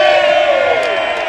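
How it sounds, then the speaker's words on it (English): Crowd at a Sydney dock cheering as the racing yacht Comanche arrives, a loud sustained roar of shouts and whoops with a falling tone, heard close and continuous. "And a big cheer, as you can hear that."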